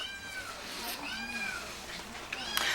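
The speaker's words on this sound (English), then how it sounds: "A bunch of kitties." Several cats meow repeatedly from shelter cages, their overlapping cries rising and falling at close range over a steady hum of background noise, with a person talking.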